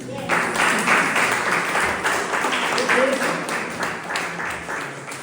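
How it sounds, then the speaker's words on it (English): A room full of people applauds steadily, a dense wash of clapping that holds at a strong level from start to finish. "Then huge round of applause for me."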